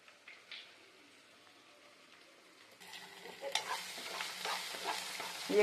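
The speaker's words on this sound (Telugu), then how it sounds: "ఈ ఎగ్స్ కొంచెం దూరగా వేయించుకోవాలి." Eggs fry in a pan over browned onions, a soft crackle that jumps into a louder, busier sizzle with scraping stirs partway through, close up and with no talking.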